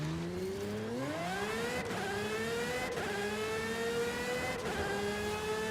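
A car engine in the racing video game Forza revving up through rising gear pulls, with brief dips at each shift. It is loud and continuous, with no talking.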